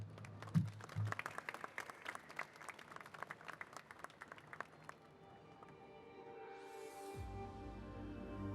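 An outdoor crowd at a flag raising ceremony for Ukrainian Independence Day in New York City claps in scattered, fairly distant applause that thins out, then gives way to a rising musical intro.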